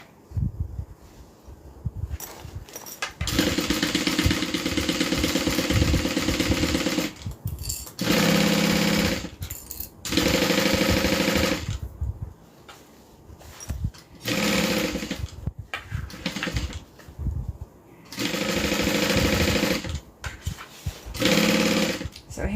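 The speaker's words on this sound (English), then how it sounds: "let's dial down our tension and then go ahead and sew this" A sewing machine stitching fabric in repeated bursts of fast, buzzing whir, each run lasting a few seconds and separated by short pauses, close and fairly quiet.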